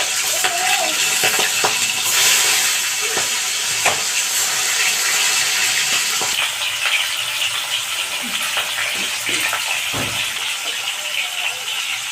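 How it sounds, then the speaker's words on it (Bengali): Fish dropped one by one into hot oil in a wok, giving a continuous loud sizzle and hiss with occasional clinks and taps of utensils and no voices. "তেলটা গরম হয়ে গেছে, এবার আমি একটা একটা করে মাছ ছেড়ে দিচ্ছি।"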